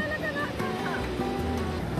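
Sea waves wash onto the beach at Tajpur as a soft, steady surf rumble, faint and continuous, with people talking over it.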